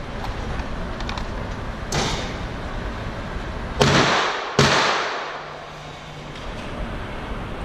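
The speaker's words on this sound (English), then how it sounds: "Run a couple with the Glock, see how it looks." Glock pistol shots ring out at a shooting range: a few sharp, loud cracks spaced over several seconds, the strongest two close together, each followed by a short echoing tail against steady outdoor background noise.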